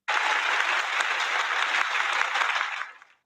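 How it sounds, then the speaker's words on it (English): Canned applause sound effect fired from a button, a dense burst of clapping lasting about three seconds, steady and clean, then cut off quickly at the end. "Him pushing that applause button."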